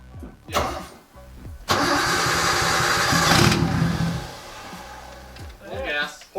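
A Nissan 240SX S13 cranks briefly, then its engine catches and roars loudly at full throttle for a couple of seconds before settling, with people talking nearby before and after.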